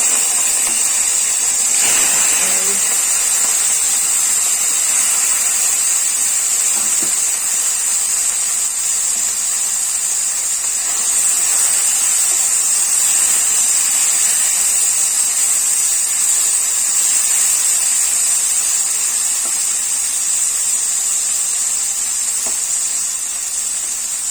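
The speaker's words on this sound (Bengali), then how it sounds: "তেল গরম হয়ে গেছে, মাছটা ফ্রাই করে নেই" Small fish fry in hot oil in a kadai, giving a continuous, even hiss of sizzling that stays loud and unbroken throughout, with no talking.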